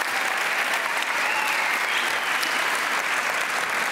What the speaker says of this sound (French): Applaudissez-les. Bravo.